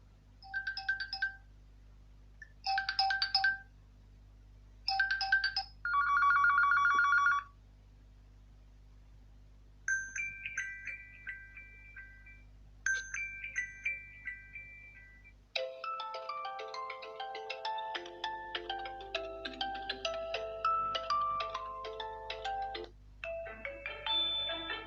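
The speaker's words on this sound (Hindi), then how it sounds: "इसकी कुछ रिंगटोन्स को चला के इसके स्पीकर की क्वालिटी को चेक कर लेते हैं" A series of electronic ringtones and chiming melodies play one after another from a Huawei MatePad T8 tablet speaker, short bursts first, then a longer busy tune, loud and clear.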